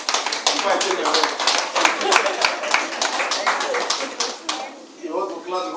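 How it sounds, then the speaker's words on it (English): A conference audience at a rally in Port Harcourt claps together in a dense, sustained burst that fades near the end, with voices audible underneath. "You want to clap before I take my mic."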